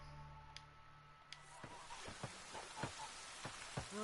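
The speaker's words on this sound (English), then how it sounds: "Looks like rain." Rain falling in the open-world video game The Witcher 3 near Crookback Bog, a steady wash of drops with scattered louder taps and ticks against a low ambient hum, no one speaking.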